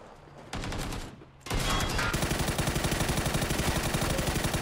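Rapid automatic gunfire in PUBG, a short burst followed by a long sustained stream of fast, loud shots up close, with no talking over it.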